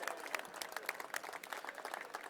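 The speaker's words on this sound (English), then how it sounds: "so a round of applause for Gonzo." A round of applause for Gonzo on his birthday, a soft, distant patter of many hands clapping steadily at a bill signing event, faint and fairly even throughout.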